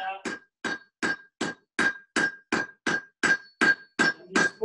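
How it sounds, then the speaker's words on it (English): Blacksmith forging hot metal on the horn of an anvil at a ranch demonstration, a steady series of about eleven sharp, ringing hammer blows in even rhythm, close and loud. "I'm just forging it now."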